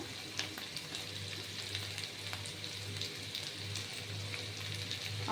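Potatoes frying in a pan of hot oil for a vegetable curry, giving a steady close sizzle with faint crackles throughout and no voices.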